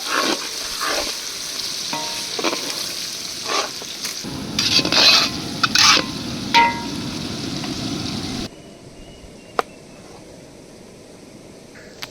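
Local onions sizzle and fry in a pan while someone stirs them now and then. The frying stays loud and close with scraping bursts in the middle, then fades to a quieter hiss near the end.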